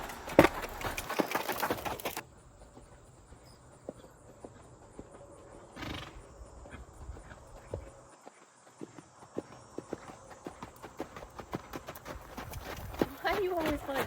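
A horse's hooves clop in a rhythmic cantering beat on the ground, with a short burst of wind noise at first and a person talking over the footfalls.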